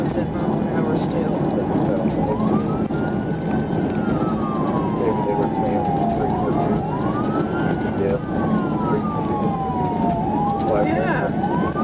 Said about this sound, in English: When emergency lights and siren were activated